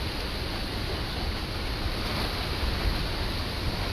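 Wind and sea waves pound a shoreline as Typhoon Upong begins, a dense, steady roar of surf and gusting wind buffeting the microphone, with no voices.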